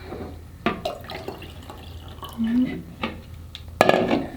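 Water is poured off freshly churned butter in a classroom butter-making activity, with a few short splashy pours and drips against a background of voices.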